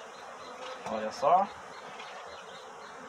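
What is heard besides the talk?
large bee swarm buzzing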